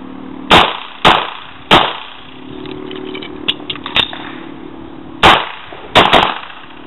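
Pistol shots ring out during a double-tap shooting drill with a magazine change: loud, sharp reports, a few spaced single shots and then a quick pair, with faint handling clicks between them.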